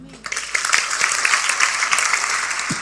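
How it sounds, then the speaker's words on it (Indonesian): A congregation at a church sermon breaks into brisk, dense clapping that swells quickly and stays strong for over two seconds, with a brief low voice near the end. "Tepuk tangan untuk Tuhan"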